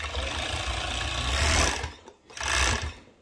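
A serger stitches the raw edges of baby pants with a fast, steady mechanical whir, one long run that pauses briefly before a second short burst.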